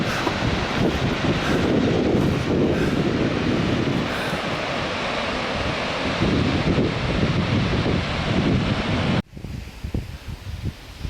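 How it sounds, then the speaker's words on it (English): A waterfall along a snowy mountain hiking trail in Frafjord, Norway, heard as a loud, continuous rushing roar mixed with wind noise that cuts off abruptly near the end, leaving quieter outdoor rustling. "Oh, there's a nice waterfall."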